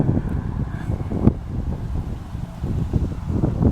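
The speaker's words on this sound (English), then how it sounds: "Apologize for the wind, it's a little breezy out here today." Wind blows outdoors around a parked Rivian R1T pickup, buffeting the microphone in a steady low rumble with gusty swells and a brief louder thump, and nothing else stands out.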